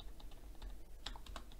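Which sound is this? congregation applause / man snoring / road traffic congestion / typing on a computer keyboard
typing on a computer keyboard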